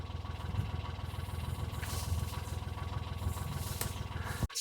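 A narrowboat engine runs steadily at idle, a low throbbing chug that stays constant before cutting out abruptly at the end, in windy conditions.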